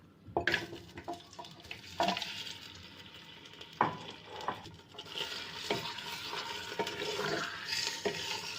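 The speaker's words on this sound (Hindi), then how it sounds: "इसको इसमें अच्छी तरह से हम भूनेंगे" Chicken fries in a cup of oil in a clay handi for nihari, with a moderate sizzle under repeated spoon stirs and knocks against the pot, some of them sharp, and no one speaking.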